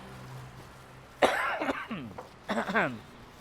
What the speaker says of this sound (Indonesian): Agak flu batuk ya teman-teman ya